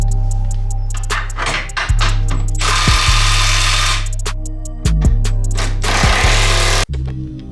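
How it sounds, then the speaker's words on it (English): Impact gun tightening the rear lower control arm bolts on a Honda Civic, several loud close buzzing bursts of hammering over a steady compressor hum, with pauses between each bolt. "Now you can start tightening them all up."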